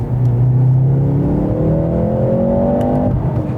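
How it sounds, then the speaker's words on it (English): A 2022 Mercedes-AMG C43 engine revs loudly and steadily, its pitch climbing smoothly through a sustained run before easing off, heard up close with no talking. "the engine feels quite highly strung and pretty sophisticated. I'll give you a quick example now."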